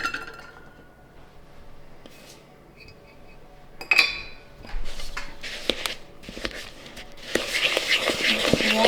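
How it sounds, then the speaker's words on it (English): Margarine, brown sugar and white sugar being mixed for brownies in a home kitchen, with scattered utensil clinks and scraping against a bowl, growing busier and louder toward the end, with no talking. "So now let's mix the ingredients."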